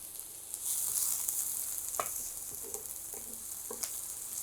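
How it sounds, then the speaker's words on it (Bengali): About two chopped onions sizzling in a little oil in a pan, a soft steady frying hiss with occasional stirring clicks and scrapes, fairly quiet and with no talking. "আমি এখানে দিয়ে দিচ্ছি প্রায় 2টা পেঁয়াজ হবে, কুচি করে কেটে নিয়েছি"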